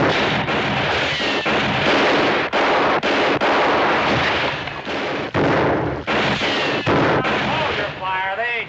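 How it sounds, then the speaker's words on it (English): A loud, sustained shootout from the 1960 TV western Bonanza, dense repeated gunshots in rapid succession with brief gaps, forming a continuous roar of gunfire and a few voices shouting beneath it. "Hold your fire. They ain't shooting back."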